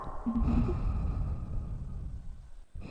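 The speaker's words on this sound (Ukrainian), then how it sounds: "Як Дарт Вейдер дихаєш чисто" Heavy, drawn-out breathing close to the microphone, a strong sighing exhale followed by quieter breaths, with no speech.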